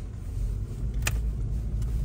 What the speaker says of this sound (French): Ce que j'aime bien, c'est le bruit du moteur.